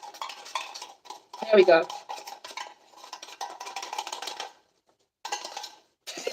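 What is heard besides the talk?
scooping shredded mushroom tinga from pan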